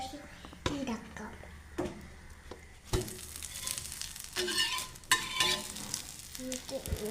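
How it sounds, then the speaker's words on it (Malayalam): Dosa batter sizzles on a hot pan in a home kitchen, a steady frying hiss broken by several sharp scraping and tapping knocks, with voices talking nearby. "കുക്കറിൽ ദോശ ഇടുന്നുണ്ട്"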